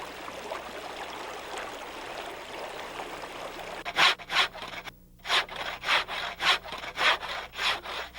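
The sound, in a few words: sawing wood for firewood supply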